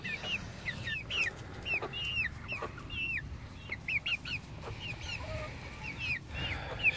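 Silver Sebright chickens cluck and chirp repeatedly while being fed pellet feed, many overlapping calls in a busy flock, close by over a faint background rustle.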